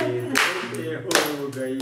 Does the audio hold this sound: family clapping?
yes